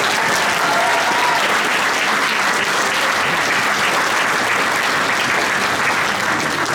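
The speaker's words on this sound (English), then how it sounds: "what about a round of applause for, first of all, on keyboard, the amazing Owen Parr." Audience applause at a youth jazz orchestra concert, steady and dense clapping that fills the whole stretch at close range without a break.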